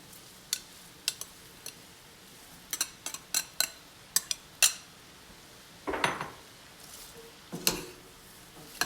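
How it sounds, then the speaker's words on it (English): Cabbage going into a large pot of turkey chili, a string of sharp metallic clinks and clatters from the pot and utensils with a couple of heavier rustling thumps, close and fairly quiet, with no talking. "Now we're going to add the cabbage"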